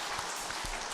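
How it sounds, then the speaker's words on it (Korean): A church congregation at a Sunday morning worship service claps together in a brief, dense burst of applause. "우리 박수 한번 드리겠습니다."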